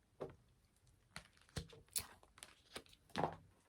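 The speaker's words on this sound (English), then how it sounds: "Let's have another little shuffle." Tarot cards being shuffled by hand, a series of soft, quiet papery riffles and flicks with brief pauses between them, close by and with no talking.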